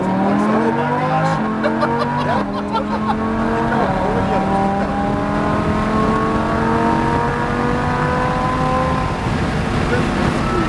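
A Lamborghini Huracan engine accelerates hard around the Portland International Raceway track, its loud, continuous roar climbing steadily in pitch through the gears as the car pulls, with an instructor's voice briefly audible over it.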